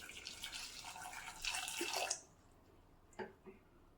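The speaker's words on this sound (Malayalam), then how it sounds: "ഇനി നമുക്ക് വെള്ളം ഒഴിച്ചു കൊടുക്കാം ആവശ്യത്തിന്" Water poured into a clay pot holding raw banana pieces with turmeric powder for ozhichucurry, a soft splashing trickle for about two seconds, then quiet with a couple of small clunks, close and faint.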